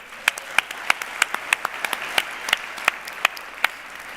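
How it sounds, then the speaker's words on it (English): Sparse applause at a business awards gala after the opening act, a few sharp distinct claps spaced across a quiet room, fairly close and light rather than a full ovation. "I think the muses deserve another big round of applause."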